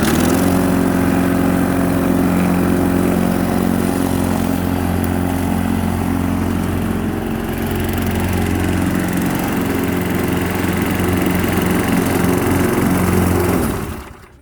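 A push lawn mower engine running on starting fluid drones loudly and steadily up close for about thirteen seconds, with a slight dip in the middle, then cuts out abruptly.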